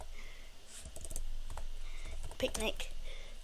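Typing on a computer keyboard while building an Excel spreadsheet: bursts of quick, light key clicks, close by, with a faint voice underneath.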